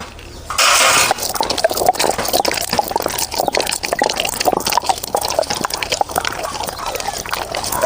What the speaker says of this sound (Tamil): தண்ணி ஊற்றி நல்லா மைய ஆட்டிக்கணும்.